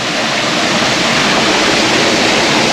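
Water rushes steadily over an old dam and through a concrete channel, a loud, continuous broadband roar with no pauses and no voices.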